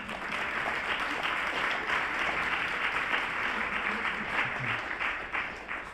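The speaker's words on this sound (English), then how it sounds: "I want you all to give yourselves a round of applause" An outdoor crowd gathered for a Martin Luther King Jr. Day celebration claps steadily and loudly, a dense, sustained wash of applause that stays even from start to finish.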